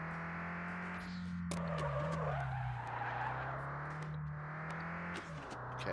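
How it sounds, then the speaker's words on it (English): Tires skid continuously as a car drifts in the VR racing game Vspeedway Alpha, a steady screech riding over a low engine drone for the whole stretch, with a few sharper bursts as the slide shifts. "I'm not quite sure how to get out of the drift once I'm in it"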